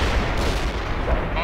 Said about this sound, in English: Artillery firing. A perfect artillery hit.